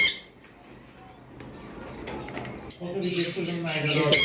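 A pair of tame, DNA-sexed sun conure parrots at a bird seller's, giving loud, harsh squawks in the last second and a half after quieter rustling and indistinct talk.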